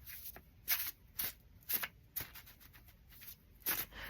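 Tarot cards being shuffled by hand, a quiet series of crisp riffling bursts at an irregular rhythm, close by and faint, with no talking.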